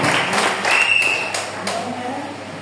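A church congregation bursts into applause, a dense wash of clapping that swells briefly and fades, with cheering and voices mixed in.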